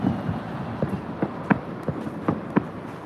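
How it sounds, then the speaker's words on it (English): Fireworks and firecrackers going off in a public park in China, a loose series of separate sharp pops at uneven spacing, moderately loud and somewhat distant, over low ambient noise. "they'll have more fireworks than they had on Western New Year"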